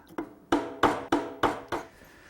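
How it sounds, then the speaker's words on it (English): Sharp hand-chisel strikes on a wooden tilt-top table column, five crisp evenly spaced knocks close by, each ringing briefly before the next, with no talk. "A little handwork with the chisel will take care of that."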